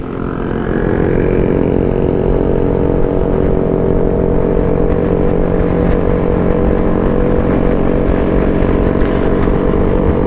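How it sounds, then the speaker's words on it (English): A Yezdi Roadking motorcycle engine runs steadily and loudly nearby, a continuous throbbing rumble with a rhythmic beat that holds throughout. "that's the music that these motorcycles create"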